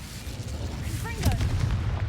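A fire spell, Incendio, cast in the video game Hogwarts Legacy: a loud burst of flame with a rumbling low roar and crackle over steady game ambience, peaking after a moment and sustaining to the end.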